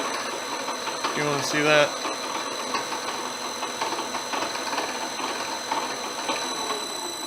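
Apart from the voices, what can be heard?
1987 Millport CNC knee mill spindle running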